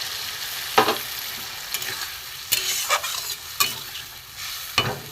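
Spiced mustard-paste water is poured into a pan of small hilsa fish curry with eggplant and potato, giving a low sizzle broken by several sharp scraping stirs and clatters at irregular intervals.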